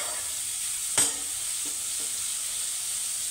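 Cluster beans stir-fry in a pan with a constant steady sizzle, and a single sharp spatula scrape against the pan plus a couple of softer stirring knocks stand out from it.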